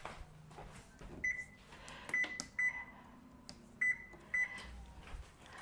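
An oven's control panel being set to preheat gives five short electronic beeps in an uneven pattern, each one crisp and near, with faint kitchen clatter in between.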